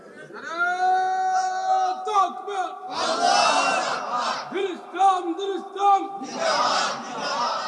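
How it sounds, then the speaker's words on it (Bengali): A large crowd at an outdoor religious gathering chants the takbir, Allahu Akbar, in loud, echoing unison bursts, answering a voice over an amplified sound system. "হাত তুলেন, একটু জোরে তাকবীর দেন"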